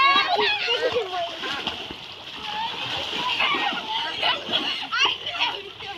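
Feet splash through floodwater on a village road in Goalpara, Assam, a continuous close sloshing and splattering while children and adults chatter throughout.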